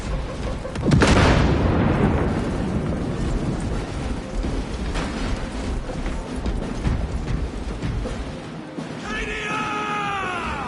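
A video game battle against an alien Xenos hive beast erupts with a loud booming grenade blast, followed by sustained rumbling, shouting and chaotic combat noise, ending in rising whining tones.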